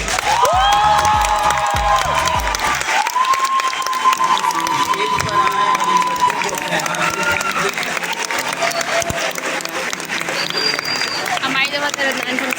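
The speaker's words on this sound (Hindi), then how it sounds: "सारे मैथ्स वाले तालियां बजा रहे हैं" An audience claps and cheers at an annual school honors ceremony, a dense wash of applause filling the hall throughout while someone speaks over it into a microphone.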